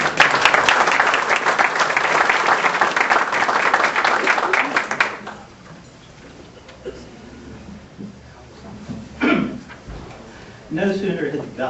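Dense, loud applause from an audience at a Republican National Hispanic Assembly event, running about five seconds before fading into quieter room noise and a few scattered sounds.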